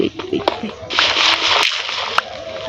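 A short burst of sloshing, splashing water in Minecraft sits amid scattered clicks and a brief voice, bright and close.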